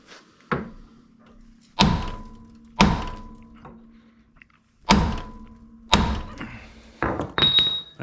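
Hammer blows strike a Jeep ZJ front track bar, about six sharp metallic smacks spaced unevenly with short ringing tails, close and loud in a quiet garage.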